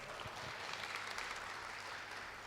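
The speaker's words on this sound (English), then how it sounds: "Please give a big round of applause for Avi." Audience applause closing a technical talk on Active Directory security, a steady wash of clapping that fills the whole stretch at moderate, somewhat distant level.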